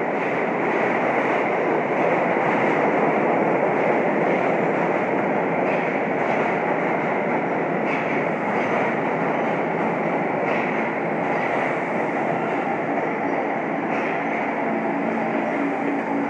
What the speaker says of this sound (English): I get to hop on a really cold New York City subway train